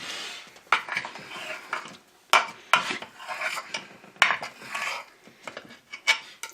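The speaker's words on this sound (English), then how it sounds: "Take our beautiful cake here, and I just cut it into pieces" A knife cutting a cake into pieces in a kitchen, a series of sharp clinks and scrapes of metal against a plate or pan, irregular and close, with no talking.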